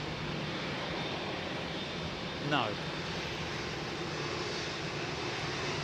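A Mauritius jet airliner taxiing at London Heathrow Airport gives a steady broad engine roar in the distance, with people talking over it and one short whoosh-like swell midway.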